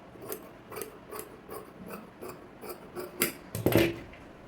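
Scissors cut through blouse fabric in a steady rhythm of crisp snips about every half second. The snips are close and clear, with a louder, scraping cut near the end and no talking.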